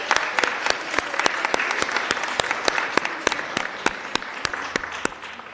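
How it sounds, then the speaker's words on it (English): A seated audience at a Board of Supervisors meeting gives a sustained round of applause, many hands clapping steadily and crisply for several seconds with no voices over it. "Let's give her another round of applause"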